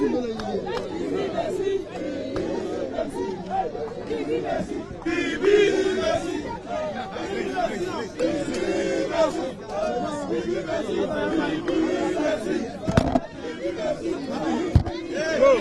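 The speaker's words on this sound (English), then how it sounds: "The crowd is getting uncontrollable here." A large, unruly crowd at an election event, with loud overlapping chatter and shouting close by and a continuous babble of many voices. Now and then someone shouts out, and a couple of sharp knocks cut in near the end.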